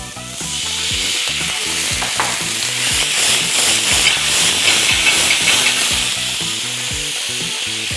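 Loud, steady sizzling and hissing of a lion's mane mushroom masala in a hot pan just after coriander and a splash of water go in, with rhythmic stirring scrapes throughout and no voices.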